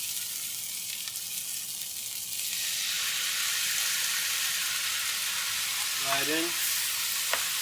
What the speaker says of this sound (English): Now we're going to add in our soy sauce right in.